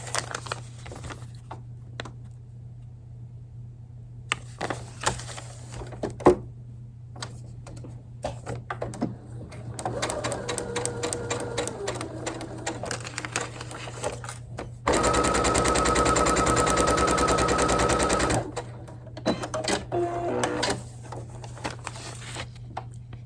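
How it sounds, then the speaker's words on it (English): A home sewing machine stitches a foundation paper-pieced Milkmaid's Star quilt block in several bursts, quick ticking runs building to one long loud steady whir near the end, close up with no talk. "we're gonna sew on the line between 1 and 2"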